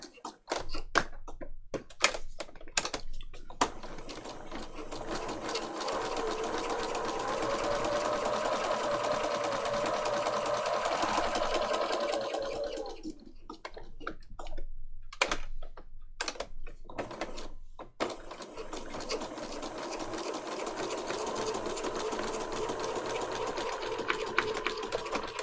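A sewing machine stitches around fabric tags in rapid mechanical runs, with short starts and stops at first, a long steady stretch, then a pause and more stitching.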